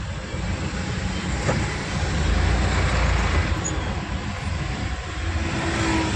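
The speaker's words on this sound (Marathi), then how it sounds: "अडकलो उघड ट्रॉफिकमध्ये." Steady city road traffic surrounds a pickup truck stuck in a jam, a continuous low engine and road rumble with no clear breaks.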